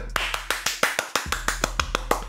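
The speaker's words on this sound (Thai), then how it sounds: "ทุกคน ปรบมือ" A group claps in a quick, fairly regular rhythm, about a dozen sharp hand claps in two seconds with no talking over them.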